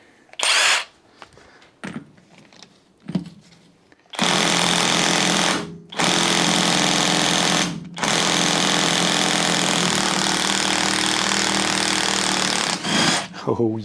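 A loud impact wrench hammers at the drive shaft nut of a Saab 900 Turbo Commander in a bursting rattle that runs long with short pauses, preceded by a few quieter clanks and thumps, close to the listener.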